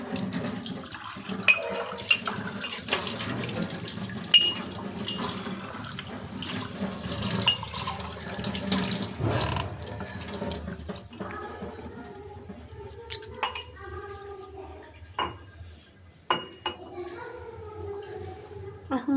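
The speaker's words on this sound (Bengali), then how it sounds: "তো গাইস, এখন আমরা হামাল দিস্তাটা ধুয়ে নিব।" Tap water runs steadily while a mortar and pestle is washed in a sink, a continuous splashing wash that later breaks into clinks and knocks of the stone tools, up close, with a voice talking over it.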